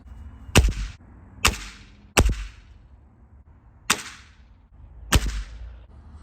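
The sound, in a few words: GAMO Swarm Whisper air rifle shooting at target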